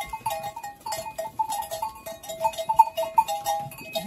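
Goats and their young kids bleat on a farm in open countryside, several short, wavering cries overlapping at moderate distance, coming in uneven bursts with pauses between them.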